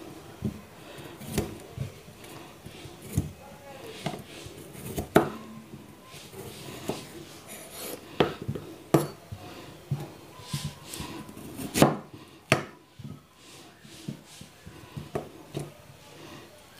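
Radishes are cut lengthwise with a knife, giving sharp, irregular chops against a board, each one distinct and close, with no talk over them.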